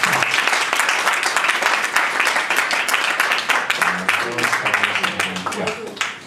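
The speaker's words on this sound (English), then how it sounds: "Round of applause, come on." A conference audience applauding loudly, dense sustained clapping from the crowd throughout, with a voice speaking over it toward the end.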